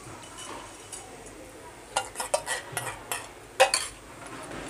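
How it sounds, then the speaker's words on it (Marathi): Ground tomato added to masala fried for about a minute for a chicken gravy, heard as a quiet sizzle under a cluster of close spoon-on-pan scrapes and clinks, the sharpest knock near the end. "इथे मसाला घालून एखादं मिनटं असं परतून घेतलं आहे आणि त्याच्यामध्ये आपण आता हे वाटलेला टोमॅटो घालून घेऊ"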